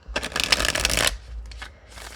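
A tarot card deck of thin, flexible cardstock being riffled and shuffled by hand, a dense burst of fluttering card sound for about a second, then a few softer, fainter shuffles, close and alone.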